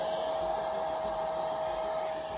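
Hair dryer blowing on a battery hen after a warm Epsom salt soak, a steady close whirring hum with a constant tone, with no talking.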